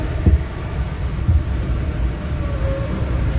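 A panoramic-class tourist train, the Pangandaran service, departs Bandung station with a low, steady rumble and a few heavy clunks of railcars, heard from on board with a faint high squeal from the wheels.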